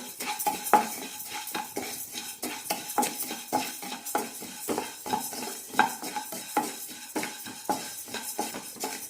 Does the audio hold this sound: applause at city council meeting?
no